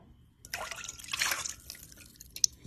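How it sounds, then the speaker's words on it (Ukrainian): Milk poured into a whisked egg mixture in a bowl, a short soft liquid splash and trickle lasting about a second, close and quiet, ending with a small drip. "Тепер в цю суміш виливаємо наше молочко"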